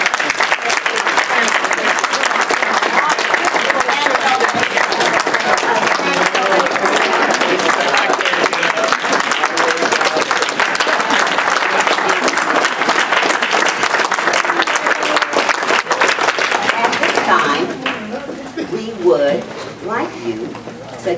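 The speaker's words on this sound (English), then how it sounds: "Let's give them a round of applause." A large crowd applauds at a high school class reunion, a loud, continuous roar of clapping that runs for most of the stretch before thinning out, with voices emerging near the end.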